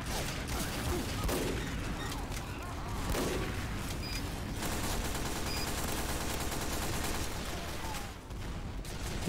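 Team Fortress 2 gunfire rattles in dense, rapid bursts with booming hits, loud and continuous over the whole stretch of close-range combat.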